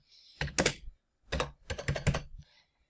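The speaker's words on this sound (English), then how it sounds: "let me type all these zeros." Keys clack on a computer keyboard as a string of zeros is typed, in two quick clusters of close, crisp strokes with a short gap between.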